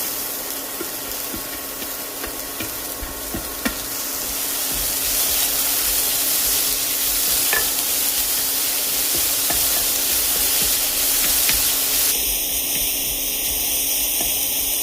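Chopped ginger, curry leaves and carrot stir-fried in a pan for a dosa filling, giving a steady close sizzle throughout with occasional clinks of the spatula, growing slightly louder partway through.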